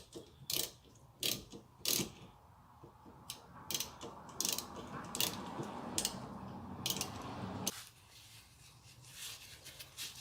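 A 3/8 inch drive ratchet turns on the oil filter housing of a 2008 Toyota Sienna, with bursts of close, rapid pawl clicking in a steady rhythm that stop abruptly near the end.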